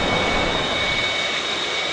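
A jet airliner engine roars steadily at an airport terminal during the Hajj pilgrimage season, giving a loud, broadband rush with a high whine that holds for the whole stretch.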